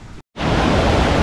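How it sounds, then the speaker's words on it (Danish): A river flows through a gorge near Malaga, its steady, loud rushing wash filling the whole clip after a brief dropout of silence near the start. "Så er vi kommet ned til floden"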